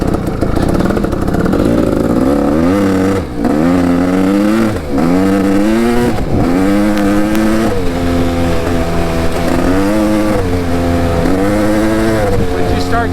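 A small engine running slightly rich with its carburetor needle in the second position revs up and down repeatedly, rising and falling in pitch, loud and close throughout with a few brief dips.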